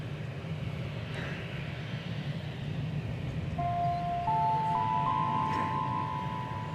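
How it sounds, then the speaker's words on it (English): An Air France Boeing 787 Dreamliner jet passes at DFW Airport, heard as a steady broadband engine roar with a low rumble that swells slightly partway through, accompanied by a faint rising whine. "It's a Dreamliner headed back to Charles de Gaulle Airport in Paris."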